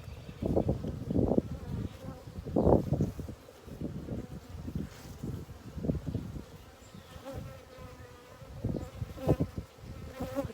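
Honey bees drone and buzz in a swelling, uneven chorus from an opened hive, loud close passes rising and fading over a constant hum, with light wind noise against the microphone.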